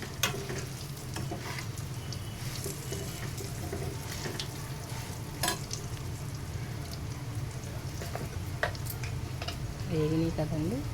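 Bitter gourd slices sizzle and crackle in hot oil in a pan while being stirred. Steady frying hiss with intermittent scraping clatter from the stirring, continuous throughout and fairly close.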